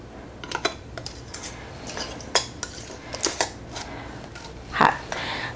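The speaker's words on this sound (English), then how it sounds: "And we're going to put a lid on it." A lid goes onto a glass canning jar filled with homemade salsa, making several sharp metallic clinks and clatters up close among kitchen handling sounds.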